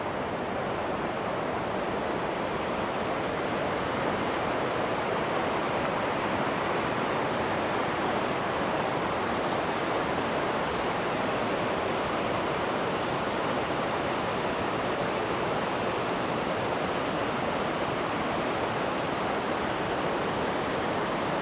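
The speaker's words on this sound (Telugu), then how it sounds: "చిన్న వాటర్ ఫాల్స్ అన్నీ కలిసేసి ఒక ప్లేస్కి వస్తున్నాయి మొత్తం." Rushing water from several small waterfalls merging into one stream in Switzerland: a dense, steady roar that holds even and unbroken throughout, with no voices over it.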